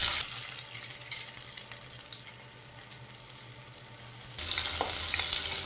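Sliced onions hit hot oil already holding garam masala, cloves, cinnamon and a bay leaf for a Telangana-style boti curry. A steady hiss runs throughout and swells suddenly louder near the end as the onions go in.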